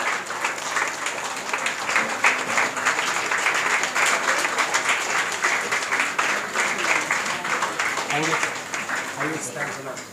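Sustained applause from an audience at a school Teachers' Day and speech competition program, honoring a guest; steady clapping fills the whole stretch, with voices talking over it.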